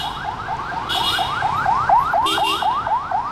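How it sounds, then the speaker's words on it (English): An ambulance siren on an empty street in Saigon, Vietnam, a loud rapid rising whoop repeating steadily over street noise. "Ambulance."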